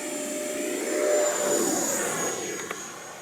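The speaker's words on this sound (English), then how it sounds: "Here we go, full throttle." A Horizon Hobby Viper 90mm RC jet with a ducted fan spools up to full throttle for takeoff from a driveway, a loud, steady high-pitched whine and rushing roar that swells and then eases slightly.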